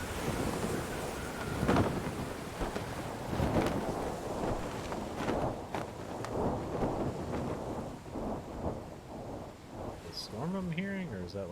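Stormy weather in the video game Like a Dragon: Ishin, with rolling thunder, rain and wind forming a steady loud wash, and a voice briefly audible near the end.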